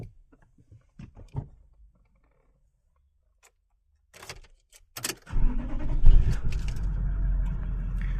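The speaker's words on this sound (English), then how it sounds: "Let's start up this car." A 2021 Toyota Landcruiser GXL 79 Series dual cab with a 4.5L V8 starts up: keys jangle and click first, then the starter cranks and the engine catches into a loud, steady low idle.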